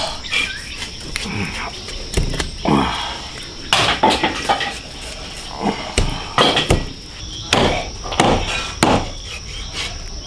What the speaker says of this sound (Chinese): 先把它劈开，等着剁